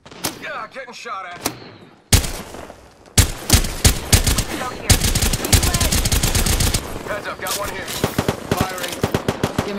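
Rapid bursts of automatic gunfire in the shooter game Apex Legends, loud sustained volleys after a brief pause, with a voice speaking between shots.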